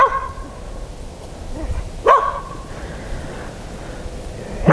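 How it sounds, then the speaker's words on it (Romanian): A dog at a village house in rural Russia gives a single sharp bark, fairly close, against a quiet outdoor background with faint, scattered noises. "Câinele latră."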